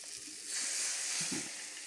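Beaten egg mixture poured into a hot pan for egg masala gives a soft, steady sizzling hiss that swells midway, with faint low knocks underneath.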